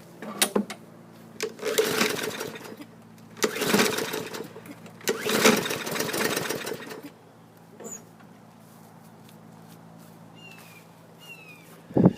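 Someone makes repeated pull-start attempts on a Murray lawn mower engine with a history of backfiring and hard starting. Three rasping, chugging bursts of cranking come in close succession without the engine catching, followed by quieter faint clicks.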